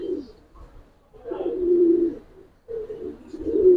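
Pigeons, a fancier's own home-bred flying birds in molting season, give low, soft cooing in two close, rounded bursts with a short gap between them, with no talking over them.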